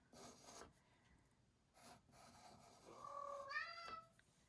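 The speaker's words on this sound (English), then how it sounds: "He is my only cat that makes that noise" A house cat makes a brief strained, warbling meow-like cry near the end, preceded by soft rubbing and scratching sounds, faint and close in a quiet room.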